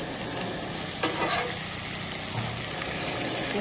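Pieces of vanjaram fish, seasoned with salt and turmeric, sizzle in a pan of fried onion, tomato and ginger-garlic paste, a steady close frying hiss with a brief clatter of stirring partway through.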